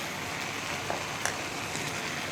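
Garam masala and crushed cumin being stirred into black pepper chicken karahi in a hot pan: a steady close sizzle with a few light scrapes of the spoon, no talking.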